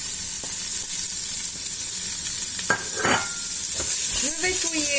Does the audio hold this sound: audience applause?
no